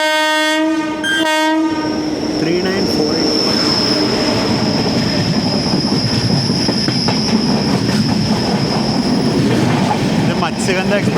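A Duronto Express train decelerates on the rails while entering a station loop, opening with a loud horn blast and continuing with steady rumbling, wheel squeal and clickety-clack, close and continuous throughout.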